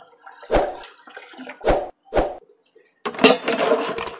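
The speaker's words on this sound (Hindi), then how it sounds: "जो दूसरी बकेट थी छोटी वाली उसका भी मैं पानी इसमें डाल देता हूँ" Water tipped from a small bucket into a desert cooler's tank, coming in three short splashing pours followed by a longer, steadier rush of water, close and fairly loud with no talking.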